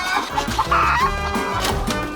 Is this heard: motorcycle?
no